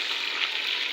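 Chicken pieces fry in a pan with browned onions, making a brief, steady, hissing sizzle close by.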